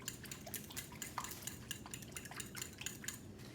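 Milk, oil and eggs are whisked together in a bowl for muffins, a quick, even run of light metallic clicks and taps, faint and alone.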